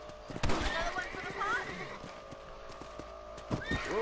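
A horse whinnies over clip-clopping hooves in the video game Red Dead, with a second neigh near the end, and a voice speaks beneath the game sounds.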